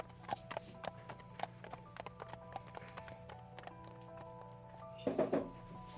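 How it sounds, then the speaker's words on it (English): A horse trots off with a steady clip-clop of hooves that starts close and grows quieter as it moves away, ending with a brief louder scuffle. "the horse begins to trot away"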